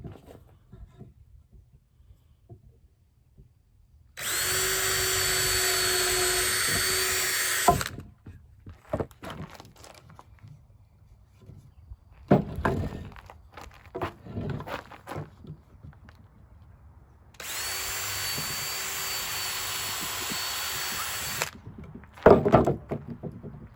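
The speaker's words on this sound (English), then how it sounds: "I'm gonna drill a pilot hole at 1 foot" A power drill bores a pilot hole into wood in two bursts of steady high whine, each lasting a few seconds, separated by softer clunks and handling noises of the workpiece.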